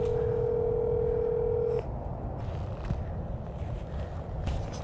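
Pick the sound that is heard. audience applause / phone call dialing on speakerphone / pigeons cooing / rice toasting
phone call dialing on speakerphone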